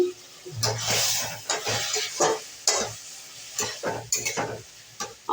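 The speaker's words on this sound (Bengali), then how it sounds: "এই গরম মশলা দিচ্ছি একটু নেড়ে নিচ্ছি" Vegetarian cabbage curry with garam masala is stirred in a sizzling pan. Repeated close scraping strokes of a spoon sound over a soft frying hiss.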